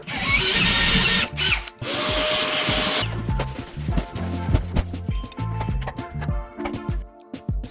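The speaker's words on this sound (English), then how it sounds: "Now I'm gonna go ahead and drill the rest of the screws." A power drill whirs and rattles in short bursts while driving screws for a TV wall mount, with knocks and clatter between runs, close and fairly loud.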